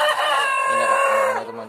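A free-range village rooster lets out one close, loud crow that rises and trails off after about a second and a half, with low hen clucking starting underneath partway through.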